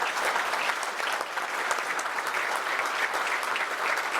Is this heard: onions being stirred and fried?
no